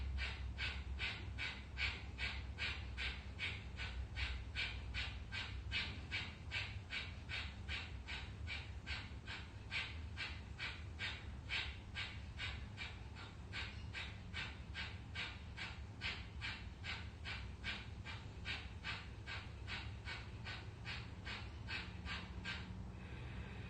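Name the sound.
Kapalabhati rapid yogic breathing exercise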